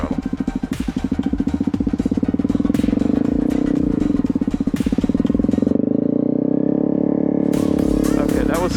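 A Honda CRF250L dual-sport motorcycle revs hard through a parking lot U-turn, its engine note loud and close, rising and falling with throttle changes before a brief dip and a renewed rev.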